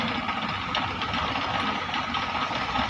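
A workshop lathe runs steadily in back gear while machining a screw, giving a constant mechanical hum and whir at close range with no pauses.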